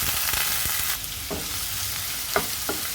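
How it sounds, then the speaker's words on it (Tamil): Onion and a dried red chilli fry in hot oil with mustard seeds for a tamarind-free tomato poha upma base, giving a steady close sizzle with a few sharp pops and spoon scrapes, no voices. "இது நல்லா வதக்கி விட்டுக்கலாம்"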